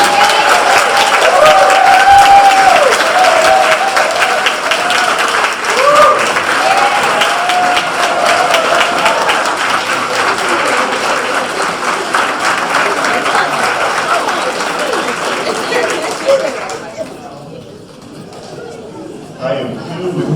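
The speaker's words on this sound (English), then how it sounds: "let's give our students a round of applause." A banquet crowd of alumni and donors applauds loudly and steadily for a long stretch, the dense clapping mixed with murmuring and chatter, then tapering off near the end.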